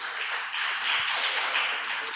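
A church congregation claps for its deacons and deaconesses, a dense, even wash of many hands applauding together at full volume with no gaps.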